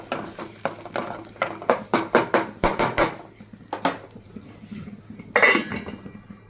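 A spatula scrapes and clinks against a pan as a spice paste with turmeric is fried over a slow flame for a crab curry, giving rapid, loud, irregular metallic strikes and scrapes close by, with no talk.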